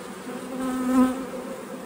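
Honeybees fly around their hive outdoors on a day after snow, making a steady, close, dense buzz that swells briefly in the middle; no one speaks.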